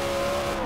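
Engine note of a muscle car in the racing game Forza Horizon 4, a steady loud drone with a strong sustained tone and some tire noise, heard alone for a brief moment.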